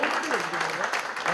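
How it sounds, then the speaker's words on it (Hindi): Audience applause for guests at a book launch event, a dense continuous wash of clapping throughout with a voice speaking over it. "एक बार जोरदार तालियां सभी मेहमानों के लिए."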